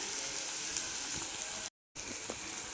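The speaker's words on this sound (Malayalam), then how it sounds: "അത് ചൂടായ നല്ലെണ്ണയിലേക്ക് ചേർത്ത് കൊടുക്കണം" Chopped bitter gourd frying in hot sesame oil, a steady soft sizzle with a brief moment of silence partway through, heard close with no talking.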